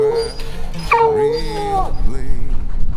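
A beagle hunting dog yips and whimpers close by in rising, wavering cries and short yelps, loud and alone with no talk.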